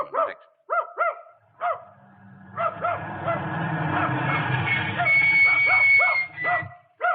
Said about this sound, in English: if you'll call off your dog, ma'am